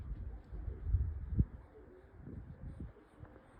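Headed pigeons coo softly, a few low, brief calls close by against a quiet background with faint rustling.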